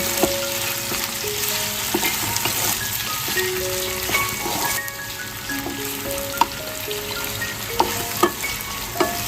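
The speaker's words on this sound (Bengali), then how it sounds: "আমি পেঁয়াজটাকে একদম হালকা করে ভেজে নেব" Onion frying lightly in a pan for a prawn bhuna, a continuous close sizzle with scattered pops and crackles, stirring clinks and a few sharp knocks near the end.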